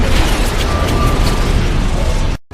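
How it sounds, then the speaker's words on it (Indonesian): A loud, sustained explosive roar fills the clip with dense rumbling noise, then cuts off abruptly at the end. "Percy melempar pedang tersebut ke dalam mulut banteng hingga meledak"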